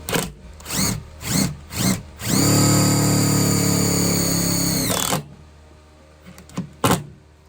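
A power drill driving screws through sheet metal into a Chevy Express van floor whirs in short bursts, then runs steadily for about three seconds before winding down, followed by a few faint clicks nearby.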